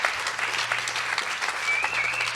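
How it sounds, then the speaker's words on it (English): Audience applause at an arts leadership forum, a steady wash of many hands clapping throughout, moderately loud and fairly close, with no talk over it. "a round of applause."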